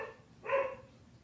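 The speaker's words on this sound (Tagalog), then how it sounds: "Pasensya na po kung maingay ang aming aso." A single short bark from a dog at home, one sharp, fairly faint yelp standing alone against quiet background noise.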